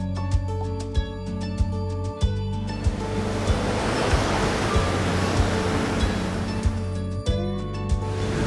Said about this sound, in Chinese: 这边呢有非常磅礴的瀑布景观